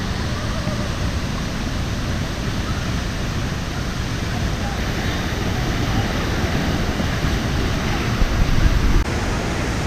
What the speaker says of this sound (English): And this is the other side of the waterfall.